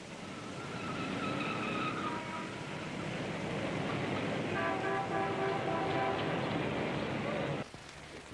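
An old, slow taxi drives along with a steady, loud engine and road rumble that fills the whole stretch, with faint tonal whines riding over it before the noise drops away near the end.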